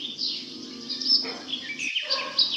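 A bird perched on an apple gives a few high, bright chirps and twitters close by over a faint background hum.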